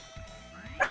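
Cartoonish dog barks from the shoot-'em-up game Parodius, a short yappy burst rising loud near the end over game music and effects, with a player's voice talking.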